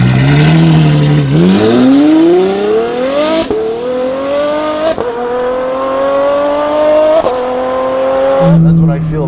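A Novitec Ferrari F12 N-Largo V12 revs loudly and climbs through repeated upshifts, the engine note rising in smooth sweeps with sharp breaks between gears, then dropping to a lower drone at the end.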